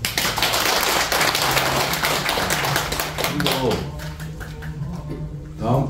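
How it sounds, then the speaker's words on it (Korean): A Buddhist dharma gathering claps together in a sustained burst of dense clapping that fades toward the end, with a low hum beneath. "다 우리 여러분 덕분에 박수 한번 칩시다"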